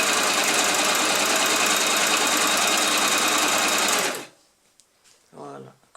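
A sewing machine runs at a loud, steady, fast whir for about four seconds, then stops abruptly, leaving near silence with a short faint rustle.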